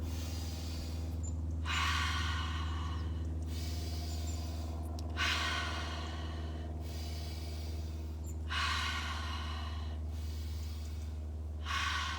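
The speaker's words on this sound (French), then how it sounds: "j'inspire et j'expire" Deep, forceful breaths in and out during a Wim Hof breathing session, four long airy exhalations in a slow steady rhythm, close and loud over a constant low hum.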